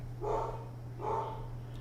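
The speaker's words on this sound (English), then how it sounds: "Can you hear the dog?" A dog barks twice at a distance, muffled and faint, over a steady low electrical hum.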